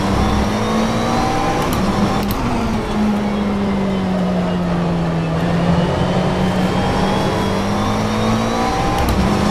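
A McLaren 720S GT3 racing car engine in rFactor 2 at Circuit de Catalunya, Barcelona, droning loud and continuous at high revs, with a slight dip and rise in pitch as it shifts and holds speed.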